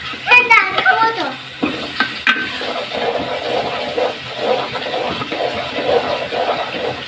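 Spices are stir-fried for a potato and pointed gourd curry, making a steady sizzle with spatula scraping and pan clatter. A voice is heard briefly at the start.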